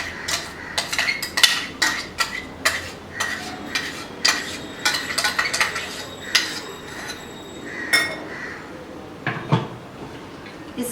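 A spoon repeatedly clinks and taps against a dish while cashew gravy is poured over a raw vegan Russian salad, sharp irregular knocks and scrapes close by.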